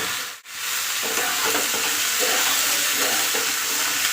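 Vegetables for sambar tipped into hot oil with frying spices, giving a loud, steady close sizzle with faint stirring scrapes after a brief dip at the start.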